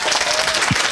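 Audience applause fills a classroom-style lecture hall at a law exam coaching session, a dense, steady wash of many hands clapping close by throughout, with no speech over it.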